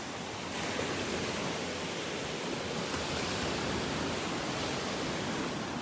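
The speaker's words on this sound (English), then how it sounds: "Listen to these waves." Ocean surf on a beach in North Naples, Florida, a steady, loud broadband wash of breaking waves with no pauses, heard close.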